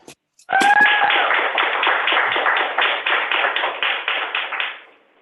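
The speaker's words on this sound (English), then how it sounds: "Feel free to clap." A small group applauds at a naval officer commissioning ceremony for several seconds, a dense patter of clapping that starts abruptly, holds steady, then tapers off.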